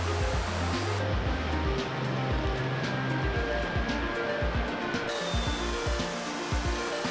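River water rushing steadily and close at Sedona, a broad continuous wash of flowing noise with occasional splashes and low thumps from people wading in it.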